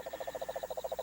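A giant cane toad gives a rapid, steady trill of evenly spaced pulses, about a dozen per second, loud and close with no other sound around it.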